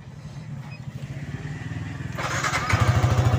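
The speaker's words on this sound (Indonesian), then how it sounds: "ini motor posisi hidup teman-teman" A 2018 All New Yamaha Vixion motorcycle engine idles up close with a fast, even putter that grows louder and rougher toward the end.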